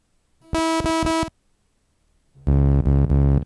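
Two short looped tones from a single cycle waveform sampled on a Pioneer DJ SP-16 sampler, each a buzzy sustained note with a stuttering pulse, the first brighter and the second lower and heavier, separated by a gap of silence.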